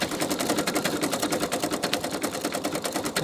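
A PFAFF CV 5.5 coverstitch sewing machine runs steadily at speed, a dense rapid mechanical rattle of stitching held at an even level throughout, close and fairly loud with no talking.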